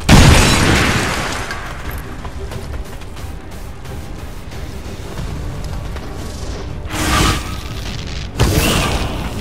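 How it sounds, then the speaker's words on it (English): A thrown grenade sets off gas tanks in the XCOM 2 video game, producing a heavy opening boom, rumbling debris and crackle, then two further sharp blasts near the end, with no talk. "I think we get a double explosion with those gas"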